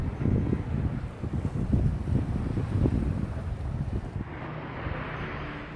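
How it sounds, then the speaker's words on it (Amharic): Iranian military motor boats speeding at sea, heard as a steady, loud rush of wind and water noise with a continuous low rumble, easing slightly near the end. "እነዚህ የሚፈነጩት ሆርሙዝን መልሰው ጥርቅም አድርገው የዘጉት የኢራን ወታደራዊ ሞተር ጀልባዎች ናቸው።"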